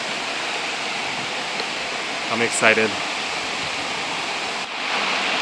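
Steady rushing water from a river along a hiking trail toward Montezuma waterfall in Costa Rica, a constant broadband wash with a brief burst of excited talk and whooping over it.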